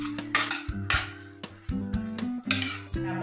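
A spoon stirs and tosses cooked rice with cauliflower in a pan for a Karnataka-style rice dish, giving repeated close clinks and scrapes of metal on metal in an irregular rhythm, with some tonal ringing between strokes.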